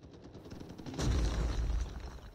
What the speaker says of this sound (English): There's some guy shooting.